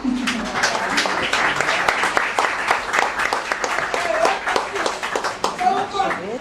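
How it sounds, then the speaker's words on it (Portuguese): A round of applause at a Cape Verdean authors' society ceremony distributing copyright royalties, steady crowd clapping throughout with voices audible over it. "Uma salva de palmas"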